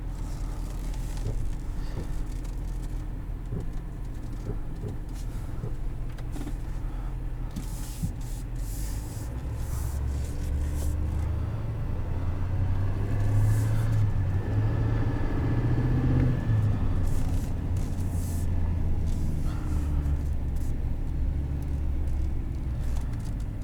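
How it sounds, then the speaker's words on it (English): A 2020 Chevrolet Silverado 2500 LTZ Duramax diesel pickup brakes on a downhill descent, giving a steady low engine rumble with road and tire noise that grows somewhat fuller halfway through, heard from inside the cab with no talking. "Now the truck is braking."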